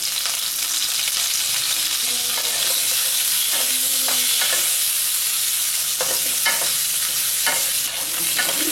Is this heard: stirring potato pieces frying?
yes